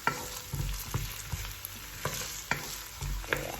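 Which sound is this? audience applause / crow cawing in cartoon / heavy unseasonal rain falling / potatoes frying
potatoes frying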